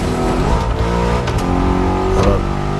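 A car driven in The Crew Motorfest, its engine droning loudly with rising and falling revs and a brief whine of a gear change or pass, continuous and close, no speech.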